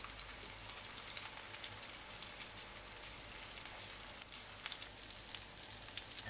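Meatballs (köfte) fry in about half a tea glass of vegetable oil, giving a steady, dense crackling sizzle with scattered pops throughout, close up and alone without voices.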